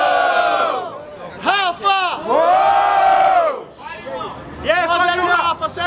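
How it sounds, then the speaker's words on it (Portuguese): A crowd at a freestyle rap battle roars and whoops in loud bursts, cheering and shouting together, with a brief lull before another wave of yelling rises near the end. "Barulho pras rimas do Rafa"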